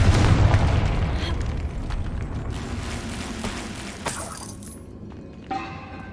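A Confringo spell blast in the Hogwarts Legacy video game erupts in a loud, booming explosion with crackling debris that slowly fades, followed by a brief bright shimmering burst near the end.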